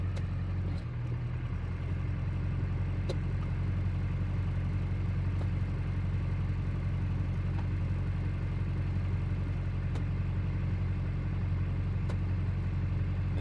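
An LB7 Duramax truck engine runs steadily at idle just after a radiator install, a continuous low rumble heard alone with no talk.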